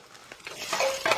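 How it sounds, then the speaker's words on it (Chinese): Diced lean pork stir-fried in hot soybean oil for Chinese fried sauce noodles gives a brief, close burst of sizzling and scraping, swelling louder toward the end, with no voices. "瘦肉炒到变色"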